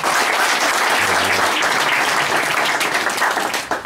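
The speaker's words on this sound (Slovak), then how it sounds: "Dajme Ježišovi jeden potlesk." A church congregation breaks into loud, sustained applause, a dense wash of many hands clapping together that fades slightly at the end.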